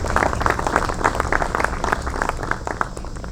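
A crowd at a statue dedication ceremony claps and applauds steadily for a few seconds, a dense, even patter of many hands.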